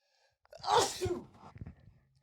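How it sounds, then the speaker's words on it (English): A single close sneeze with a sharp inhale and explosive release, trailing into a brief breathy aftermath, otherwise quiet. "is there another sneeze coming?"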